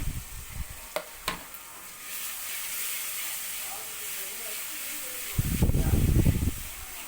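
Ginger garlic paste hits hot oil in a pan for mutton curry, a soft steady sizzle with a few sharp clinks, then a louder burst of crackling frying near the end.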